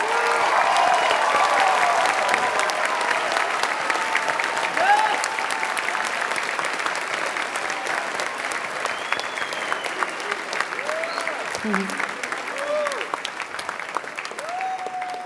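A crowd applauds graduates at a 2019 high school commencement ceremony, sustained steady clapping that carries on for the full stretch, with scattered cheers and whistles over it.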